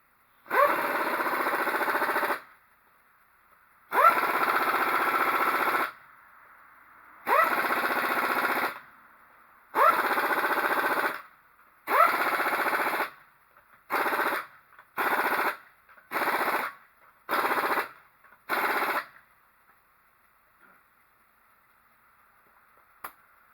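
An impact wrench tightens wheel lug nuts after a tire repair, firing in loud mechanical hammering bursts: five long rattling runs, then six short quick bursts, each separated by silence, close and with no talking.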